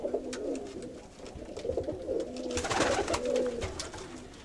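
Fine feather-legged pigeons, some grey, coo in a loft, with soft overlapping throaty coos and wing rustles that grow busier and louder toward the end, alone without talk.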